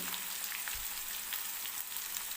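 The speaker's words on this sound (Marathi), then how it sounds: "एक मिनिटभर हे असं परतून घ्यायचं आहे आपल्याला म्हणून हे बघा" Curry leaves and green chillies sautéing in hot oil for poha: a faint, steady, hissing sizzle with no other sounds.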